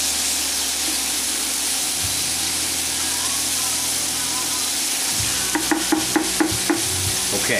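Eggplant, onion and fresh tomatoes sizzle steadily in a frying pan while being stirred, with a few sharper clinks of a utensil against the pan near the end.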